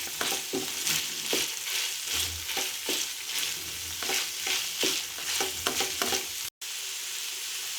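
Ginger garlic paste stirred into hot oil in a pan, sizzling steadily with a string of soft scraping stirs at a regular pace, close and fairly loud, with no voices.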